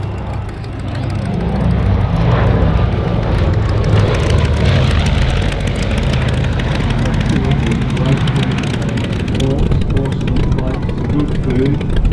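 A Lockheed Super Constellation taxis at an airshow, its piston engines and propellers producing a loud, steady, rumbling drone close by, with wind noise and people chatting throughout.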